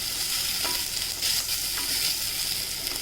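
Damp, washed sago frying in a spoonful or two of hot ghee for sago payasa, a dense, steady sizzle with faint stirring scrapes, close and even throughout, with no speech.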